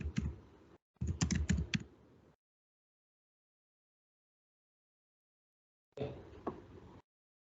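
Computer keyboard keys tapped while writing code, two close bursts of rapid clicking followed by a pause and then a shorter burst, close and clear with no talking.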